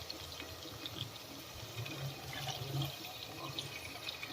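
Water is poured into a pan of spicy chicken gravy masala with tomato paste, a soft continuous splashing and sizzling of liquid hitting the hot mixture, close but fairly quiet.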